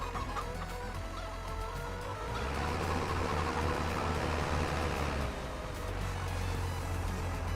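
A flock of chickens clucks in Farming Simulator 25, making a busy, continuous chorus of fowl calls over a low steady hum. The sound swells in the middle and then eases back.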